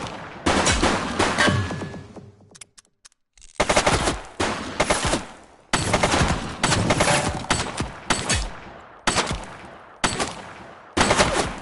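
Rapid automatic gunfire from a video game, loud bursts of machine-gun shots repeating in several long volleys with a brief pause early on, close and dominant.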